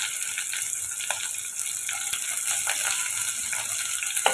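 Onions sizzle and crackle in hot oil, a constant bright hiss with occasional pops and stirring clicks, no voices.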